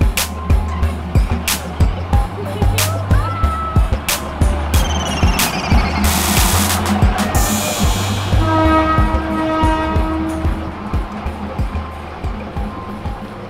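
A train rolls slowly through the famous railway market in Bangkok, heard up close from a small tunnel, with a loud, steady rhythm of wheel clacks, a horn blast midway and ringing metallic tones afterward.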